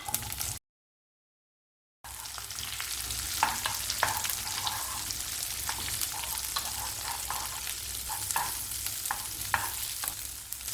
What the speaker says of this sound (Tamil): சீரகம், பூண்டுப்பல், கத்திரிக்காயை சேர்த்து வதக்கலாம்.